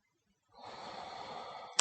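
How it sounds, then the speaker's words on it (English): Steady breathing through the nose during a hatha yoga session for anxiety, a sustained soft airy rush lasting over a second before a brief louder puff at the end, alone with no talking. "Using that same sort of breath that we were doing just before, the alternate nostril breathing."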